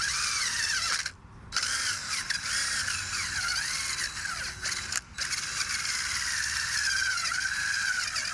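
A power tool with a wire or stripping wheel grinds paint off an old trailer, a whining, scraping drone whose pitch rises and falls as it bites. Two short breaks interrupt the otherwise continuous sound.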